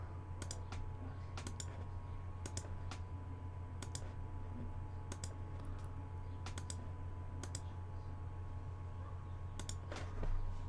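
Sparse, faint, sharp computer mouse clicks come at irregular intervals during design work for a K40 laser-inspired frame, over a steady low electrical hum in a quiet room.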